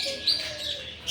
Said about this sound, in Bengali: এগুলো সব টিয়া পাখি